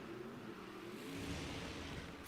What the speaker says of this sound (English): So listen to the scream of that car as he puts the foot down now